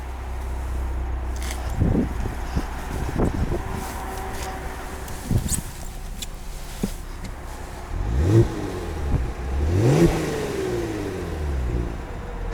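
A 2021 Kia Stinger GT twin-turbo engine revs up a couple of times, rising in pitch and then falling back, with a faint rustle of wind in the background.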